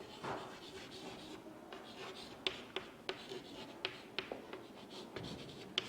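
Colored pencil writing on paper, a soft continuous scratching with a series of light taps of the tip, quiet and close.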